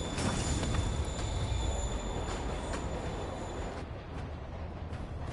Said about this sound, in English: Train's moving. Lee's getting away.